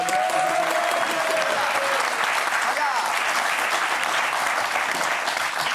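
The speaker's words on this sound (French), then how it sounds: "applaudissements pour elle" A television studio audience applauds a guest on a French talk show, a loud, continuous roar of clapping that fills the whole stretch, with faint voices mixed underneath.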